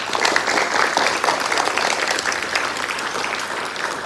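A roomful of participants at a teamwork workshop claps as hard as they can, dense, loud and continuous hand-clapping for about four seconds.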